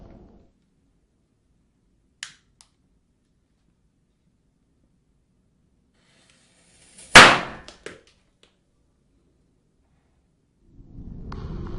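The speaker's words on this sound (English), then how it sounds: "a man wearing a mask covered in bananas with firecrackers embedded in them as he methodically lights each one" Firecrackers set into bananas on a mask go off in near silence: a faint early crack, then one sharp loud bang that rings briefly, followed later by a rising rustle.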